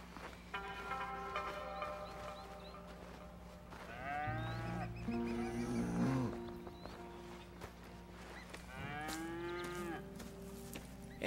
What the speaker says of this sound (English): Not to milk cows.